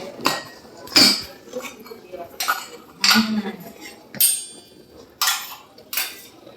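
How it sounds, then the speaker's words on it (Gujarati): Metal utensils clank and clatter against a pressure cooker being opened in several sharp, separate knocks with quieter handling between. "આ કુકરની ત્રણ સીટી કરી લીધી છે આપણે ખોલીને જોઈશું"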